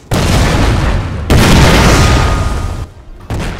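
Artillery cannons fire in the Napoleon Total War video game: loud, heavy booming blasts that roll into each other, with a fresh burst about midway and another near the end, with no talking.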